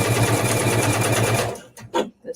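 A sewing machine runs at speed, close and loud, stitching fabric for travel essentials, then stops abruptly and a few short handling clicks and knocks follow.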